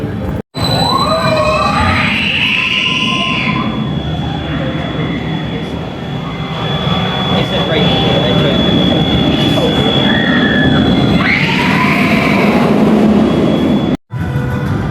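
Riders on the Mandrel Mayhem roller coaster at Chessington roar along the track with rumbling wheels and rushing wind, steady and loud for the whole ride, and excited voices shout over it.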